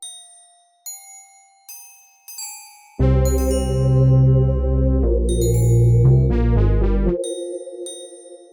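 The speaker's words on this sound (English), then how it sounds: "I'm gonna now look for like some bell sounds" Synthesized bell tones in FL Studio ring out, first a few separate chimes with decaying tails, then sustained layered bell chords over a low bass.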